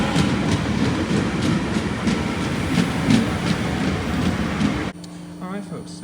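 A commuter train on a Dublin tram/rail line rumbles and clatters past nearby, a loud steady roar with rhythmic wheel clicks, then abruptly cuts to quieter ambience with faint voices.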